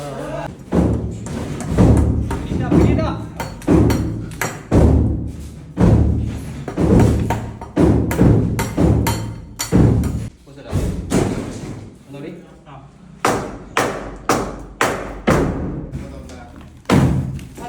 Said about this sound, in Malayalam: ക്ലാമ്പ് വെക്കുക അടിച്ചു കയറ്റുക